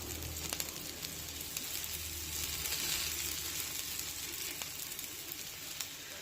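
A sprouted moong thalipeeth sizzles on a griddle as oil is poured over it, a steady soft hiss with faint crackles throughout.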